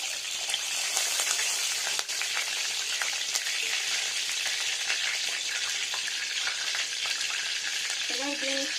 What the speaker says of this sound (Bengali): আদা স্লাইস করে এখন একদম স্লো টেম্পারেচার আদাটা দিয়ে নিলাম